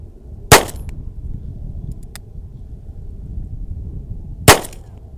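Two loud gunshots ring out at a free outdoor desert gun range near Las Vegas, spaced about four seconds apart, each a sharp crack over steady low wind rumble.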